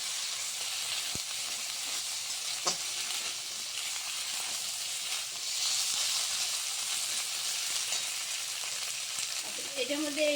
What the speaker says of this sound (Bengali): এবার কলা টসা দিয়ে দিলাম এটা আমি একটু নাড়াচাড়া করে নেবো